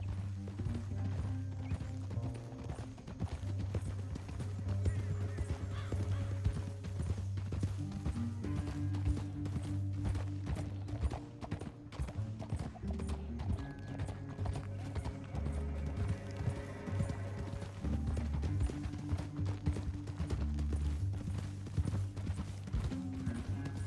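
Rhythmic horse hooves pound steadily at a gallop over a low musical drone in Red Dead Redemption 2, continuing throughout with occasional mechanical clanks.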